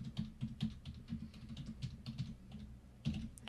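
Keys clatter on a computer keyboard as a domain name is typed, a quick irregular run of soft close clicks with brief pauses, alone without any talk.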